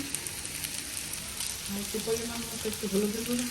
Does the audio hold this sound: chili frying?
yes